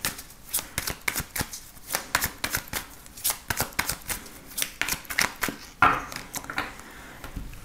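A deck of oracle cards is shuffled close by in a quick, even rhythm of papery flicks and slaps, about two per second, carrying on alone without speech.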